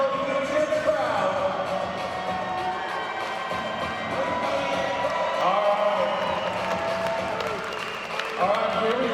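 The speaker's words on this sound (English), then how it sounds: "You can hear the crowd." A crowd murmurs and cheers throughout a basketball game, a steady dense roar of voices with nearby people talking over it.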